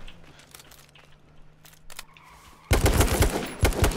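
Gunfire in a shooter video game erupts as a loud, dense burst of rapid shots in the final second and a half, after a quieter stretch of low hum and faint clicks.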